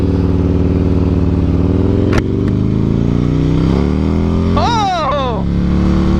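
A Yamaha V-Star motorcycle fitted with a D&D exhaust idles with a deep, loud throb, then blips the throttle in a couple of quick revs that rise and fall, with no talk over it.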